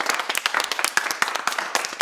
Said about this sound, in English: Clap if yes.